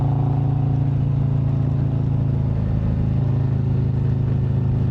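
A Harley-Davidson Street Glide ST performance bagger riding at speed, its engine a steady, loud low drone mixed with rushing wind noise throughout, with no break.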